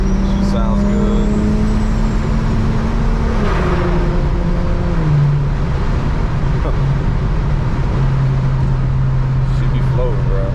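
A single-turbo BMW 335i driving along, its engine a steady, loud drone heard from inside the car, rising and shifting in pitch through gear changes, with road noise beneath.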